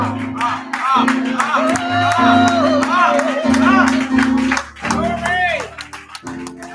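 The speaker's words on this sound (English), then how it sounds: "give the Lord another hand clap of praise" A church congregation claps in praise with rhythmic hand claps and scattered shouts, while a pastor speaks and sings over the clapping.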